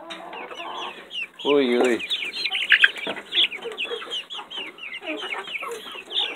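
Chickens cluck and squawk in a busy, overlapping chorus on a chicken farm, with a brief burst of louder calls near the start, heard close; a voice calls out briefly.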